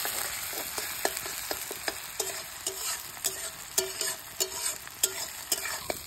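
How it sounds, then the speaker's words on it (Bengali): Eggs frying in a pan, giving a steady oily sizzle broken by repeated scraping and stirring clicks from a utensil, close up with no talking. "এদিকে ডিমটা ঝুড়ি করে ভাজা চলছে"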